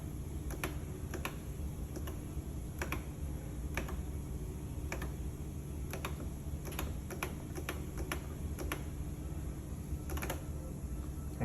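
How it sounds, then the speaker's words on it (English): A computer mouse clicks in quick single and double taps at irregular intervals during 3D model editing, crisp and close over a steady low electrical hum, with no speech. "double left click to start, single left click to get all this out the way"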